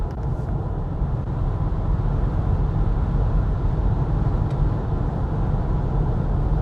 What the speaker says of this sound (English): at proper high speed, there is a little bit of wind noise.